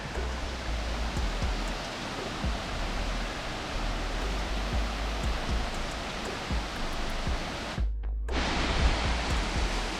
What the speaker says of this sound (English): Tunnel Falls, 83-foot drop.